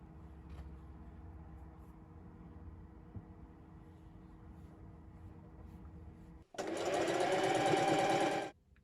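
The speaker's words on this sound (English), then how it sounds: "I'm going to be machining from the bottom of the sweatshirt" A sewing machine stitches the seam of a sweatshirt, running in one loud, steady burst of about two seconds near the end after a long stretch of quiet room hum, then stopping abruptly.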